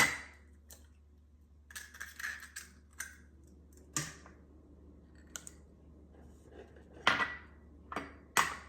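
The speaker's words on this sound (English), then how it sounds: "I'm going to be putting 12 eggs, 1 dozen eggs into our mixture." A dozen room-temperature eggs cracked one after another into a ham and cheese casserole mixture with heavy cream, sharp scattered taps and clicks of shells against a bowl, spaced irregularly and fairly quiet.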